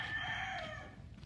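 A young gamecock stag crows once, close and clear, a drawn-out harmonic call that fades slightly toward the end against a low background rumble.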